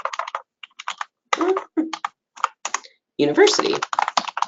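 Rapid bursts of computer keyboard typing, with clustered key clicks separated by short pauses, close and clear, while a person speaks briefly.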